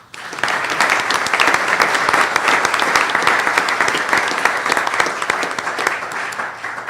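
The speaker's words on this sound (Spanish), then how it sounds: "Pedimos un aplauso" A conference audience applauds, a dense and loud burst of many hands clapping together that stays steady for several seconds.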